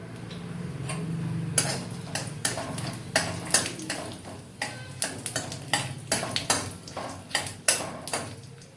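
Bay leaves, whole garam masala and cumin seeds crackle in hot oil in a pan, with a run of sharp, irregular ticks and pops and occasional utensil clinks, loud and close, with no talk.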